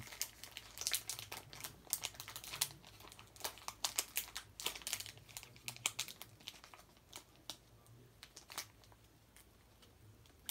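Pokémon booster pack wrapper being worked open by hand, continuous close crinkling and crackling of foil plastic with sharp rustling bursts throughout.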